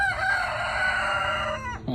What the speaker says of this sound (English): Look at their big old rooster making noises over here